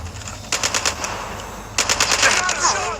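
Two rapid bursts of automatic gunfire from a weapon in Call of Duty, each a quick string of sharp cracks separated by a brief pause, with ambient game noise underneath.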